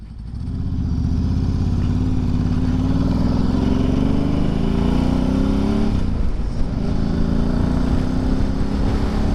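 An adventure motorcycle on a back road, its engine droning loud and steady close to the rider, with a brief dip and pickup in pitch partway through and no speech.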